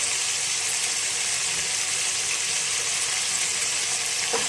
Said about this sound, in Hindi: तो अब हम फ्लेम हाई कर देंगे और इनको अच्छा सा भून लेंगे थोड़ी सी देर के लिए